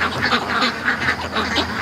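A flock of ducks quacks loudly and continuously at night on a rural property, with overlapping frantic calls layered into a dense, agitated chorus close to the listener.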